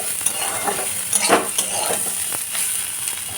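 Vegetables, including potatoes, stirred in a pan scrape and clink under a soft background sizzle, with a few quick spatula strokes and no voices.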